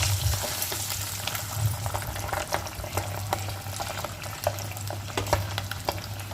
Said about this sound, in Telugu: నేను ముందుగా నూనె అయితే పెట్టుకొని నూనెలో కొంచెం పసుపు వేసి గుడ్లు అయితే వేపుతున్నాను.